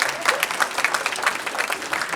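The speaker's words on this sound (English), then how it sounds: "Y'all could go ahead. Yeah, go ahead. Clap." An audience at a motivational speech breaks into dense, continuous applause. Many hands clap at once, steady and close, with no voice on top.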